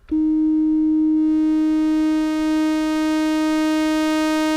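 A Korg Minilogue XD synthesizer oscillator holds one steady loud tone, starting as a pure sine and gradually brightening toward a buzzy sawtooth as harmonics fill in over several seconds, alone with no talking.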